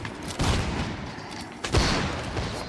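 Artillery and musket gunfire in a Mount & Blade Napoleonic Wars battle: two heavy booming volleys over a continuous distant rumble of battle.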